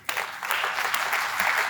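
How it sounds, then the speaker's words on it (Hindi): Church congregation clapping together during an Urdu-language Sunday service, a dense, steady burst of applause that starts abruptly and holds at full strength throughout. "ताली बजाएं उस बड़े काम के लिए जो यीशु ने किया"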